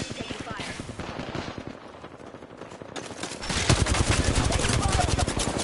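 Rapid automatic gunfire in the Apex Legends battle royale game, with bursts building and growing louder midway into a dense, sustained volley of shots, with some voice in the background.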